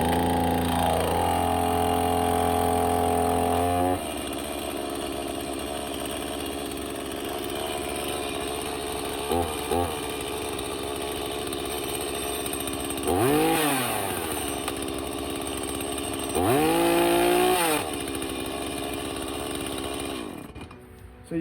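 A chainsaw engine roars steadily at full throttle, loud and close, with the pitch sweeping down and back up in two dips partway through before it settles and runs on.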